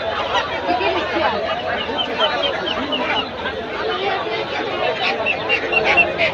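Ducks and geese crowd a busy poultry and bird market at Gausia Golakandail haat. Dense crowd chatter fills the air, with scattered honks and squawks rising intermittently from the birds nearby.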